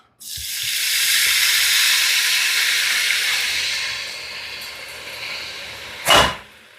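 White wine poured into a hot pan for deglazing, a loud broadband steam hiss bursting in at once and slowly fading over several seconds, with a sharp clatter near the end.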